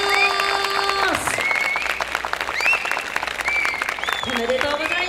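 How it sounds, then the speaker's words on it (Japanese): Loud, continuous applause and cheering from a crowd at an award ceremony for a dance festival, with an announcer speaking over it and musical tones ringing out alongside the clapping. "こちらの12チームに今一度大きな拍手をお願いします"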